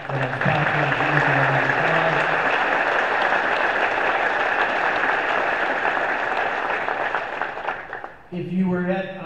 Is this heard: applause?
yes